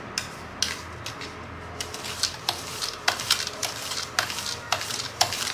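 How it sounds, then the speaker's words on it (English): A spoon scrapes and clinks against a bowl while turmeric powder scrub mixture is stirred, giving a series of irregular, close, moderately quiet taps and scrapes with no talking. "So just stir this so that you're able to mix up your turmeric powder properly."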